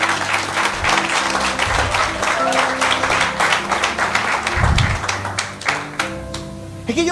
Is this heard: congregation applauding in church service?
yes